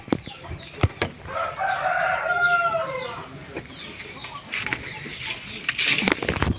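Taiwan breeder pigeons in a loft give soft cooing calls and brief wing flaps, with clucking bird sounds and scattered knocks around them, fairly close.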